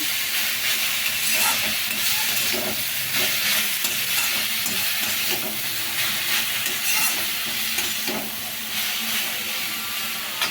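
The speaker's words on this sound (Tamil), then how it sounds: "ஒரு சின்ன தீயில வச்சு கொஞ்ச நேரம் வதக்கிக்கோங்க" Beetroot for halwa sautéing in a pan over a low flame, a steady close hiss and sizzle with light stirring scrapes throughout, no talk.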